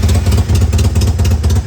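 A Polaris Ranger UTV engine with an aftermarket muffler runs loud and close, a throbbing low rumble with pulsing revs and some clatter.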